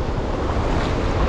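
High-tide sea waves wash onto the beach at Praia de Candeias in Jaboatão dos Guararapes, Pernambuco, making a loud, continuous broadband roar of surf mixed with gusty wind noise on the microphone, with no voices.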